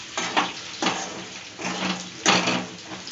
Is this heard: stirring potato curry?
yes